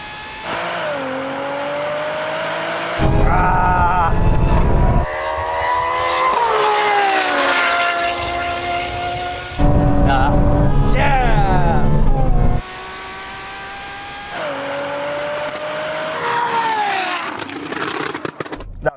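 Ferrari V12 and NISMO V6 cars in a drag race, engines screaming up through the gears with repeated rising pitch sweeps and shifts, loud and close, with bursts of roaring wind or road noise between.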